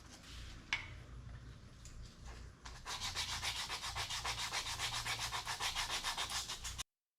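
Sanding by hand with 400 grit sandpaper, close and steady, a rhythmic scrubbing of even back-and-forth strokes after a few quieter rubs and a light knock.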